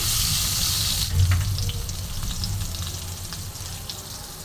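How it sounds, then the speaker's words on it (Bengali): Cubes of eggplant rubbed with salt and turmeric sizzle steadily in hot oil, a dense continuous frying hiss that fills the clip with no voices. "এবার বেগুনটা আমি লাল লাল করে ভেজে নামিয়ে নেব।"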